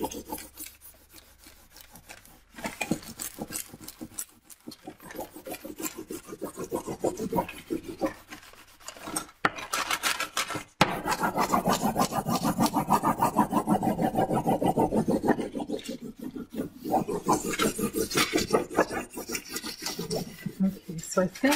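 Rapid rasping rubs from burnishing an encaustic monotype onto a panel by hand, continuous rhythmic scraping strokes close up, growing denser and louder midway.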